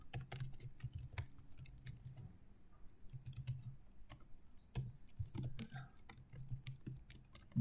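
Code being entered on a computer keyboard gives soft, quick key clicks in bursts with short pauses, close and fairly quiet, with no voices.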